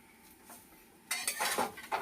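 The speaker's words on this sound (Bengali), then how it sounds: "এইভাবে আস্তে আস্তে নাড়তে হবে। এইভাবে নেড়ে নেড়ে নুনের যে গরম ভাবটা তাতেই এটা সেদ্ধ হয়ে যাবে" Amla gooseberries are turned slowly in hot salt in a pan. Quiet scraping comes first, then from about halfway a louder rush of dry, gritty rattling and clinking as the stirring picks up.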